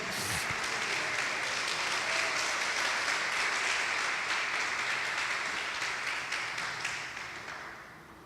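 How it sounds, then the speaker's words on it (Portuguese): A church congregation breaks into sustained applause, a dense wash of clapping from many hands that stays steady and then gradually fades toward the end. "Pode aplaudir."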